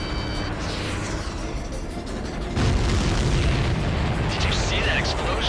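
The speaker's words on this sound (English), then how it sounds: "Did you see that explosion?" A supply ship blows up in the Ace Combat 7 flight game: a sudden heavy boom bursts out midway through a constant roar of jet and combat noise, then rumbles on.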